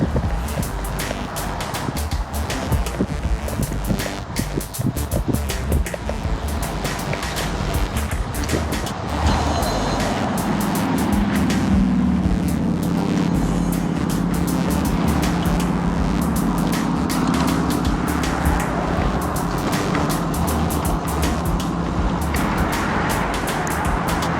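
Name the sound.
wind blowing from behind while cycling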